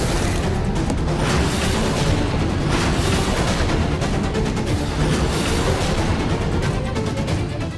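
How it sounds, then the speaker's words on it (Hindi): A dense, continuous barrage of gunfire and booming blasts, loud and unbroken throughout with no voices. "ये अचानक गोलियों की आवाज कैसे आ गई?"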